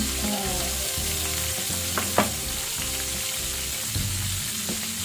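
Garlic frying in beef fat in a pan for a Jollibee-style burger steak, a steady close sizzle with light crackles and an occasional sharp pop, no talking.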